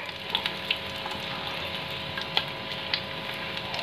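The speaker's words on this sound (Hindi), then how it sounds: "अब इसे ऑयल में डाल देंगे ये मोमोज।" Chicken momos made with wheat-flour dough fry in oil in a pan, giving a steady close sizzle broken by occasional sharp pops.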